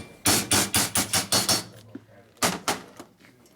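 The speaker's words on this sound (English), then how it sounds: "So you hammer them in" Sharp metallic hammer strikes on a 1972 Harley-Davidson XL Ironhead Sportster engine part, a quick run of about seven blows, a brief pause, then two or three more hits, close and loud.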